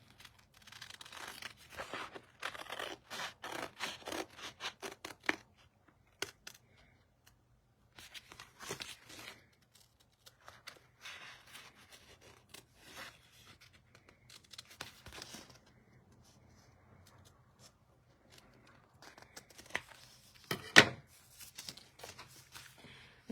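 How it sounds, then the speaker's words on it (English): Scissors cutting paper for a planner layout, a quiet series of rapid crisp snips and paper rustling in bursts, with pauses between and one louder crunchy cut near the end. "And then let's cut this side off so that I'll know"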